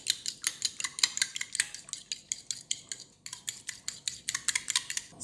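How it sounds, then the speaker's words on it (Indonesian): Eggs with seasoning are whisked briskly in a bowl, producing rapid rhythmic clinking and tapping of the utensil against the bowl, with a brief pause midway. "Sekarang kita kocok."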